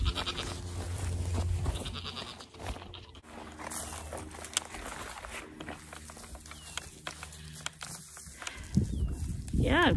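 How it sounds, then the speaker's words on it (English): Goats grazing on garden weeds bleat repeatedly nearby, their calls scattered and overlapping, with rustling and footsteps around them and a person talking during parts of it. "all these weeds, my goats are loving it"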